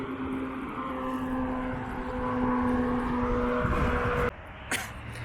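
Continuous engine hum and rushing noise inside a small aircraft flying between Westminster and Boulder, a steady tone running under it, ending with a brief shuffle and faint throat-like sound.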